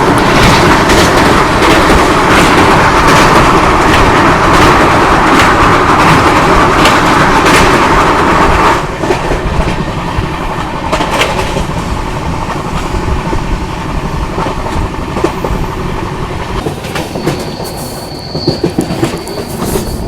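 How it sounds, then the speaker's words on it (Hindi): A passenger express train rumbles along at speed through Vapi railway station with steady, loud rolling noise and rattling cars, easing somewhat midway, with a brief high squeal near the end. "गाड़ी चल रही है यहाँ पे, बहुत बढ़िया रफ्तार में।"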